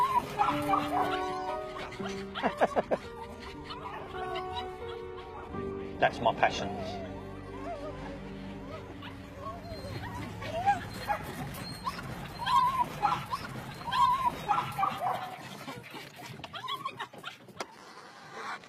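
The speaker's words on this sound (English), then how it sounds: "The excitement of watching the little dogs work." Small terriers bark, yip and whimper excitedly while hunting rats on a pig and chicken farm, with someone talking over them and a car nearby.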